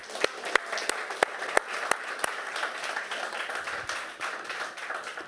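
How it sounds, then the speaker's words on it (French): A church congregation gives a round of applause for a man named Patrick, with several sharp, distinct claps standing out at first over a softer, steady patter of hands. "J'aimerais ça qu'on me donne une bonne main d'applaudissement pour Patrick."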